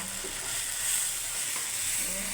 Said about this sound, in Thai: เดี๋ยวผัดให้หอมเขา